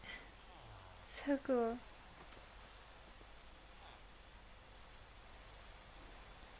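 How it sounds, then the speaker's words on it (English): Steady rain falls in the Minecraft video game, a soft, even hiss that runs throughout at low volume, with a brief spoken remark near the start. "Oh, it's raining."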